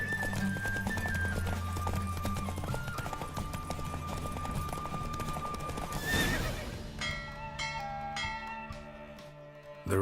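Horse galloping and neighing during a race in the video game The Witcher 3: rapid clip-clop hoofbeats under game music, then a loud whinny, with tolling bell-like tones as the gallop continues.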